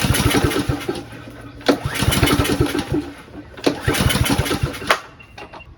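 A lawn mower engine is cranked again and again without catching, with repeated pull-start bursts of sputtering, coughing combustion. Each dies away before the next pull, close up and fairly loud.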